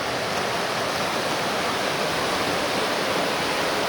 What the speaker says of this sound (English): it's just some sort of a flooding because of the snowmelt.